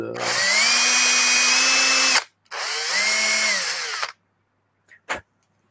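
A power drill whirs as it widens a hole in a 3D printer toolhead part, two sustained runs with a rising then falling whine separated by a brief pause, close and loud, followed by a couple of faint clicks.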